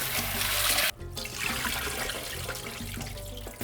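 Pinto beans being rinsed in water in a kitchen, a steady running, splashing wash that breaks off briefly near the start and then continues close and fairly loud, with no talking.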